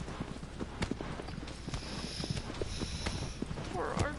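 The horse Argo's hooves clop steadily in Shadow of the Colossus game audio, a rhythmic string of hoofbeats heard under continuous talking.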